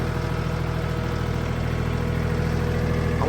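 Steady engine idle from a tractor near a cemetery, a continuous low rumbling drone with constant vibration, close and loud with no variation throughout.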